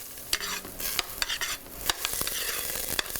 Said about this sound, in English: What we want to start out with is about 2 tablespoons of butter. We're going to get that melted.